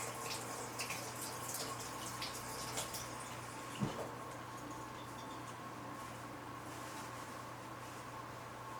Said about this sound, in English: Sometimes by just putting some warm water on the bottom plastic part, kind of running it over, is enough to jar these loose.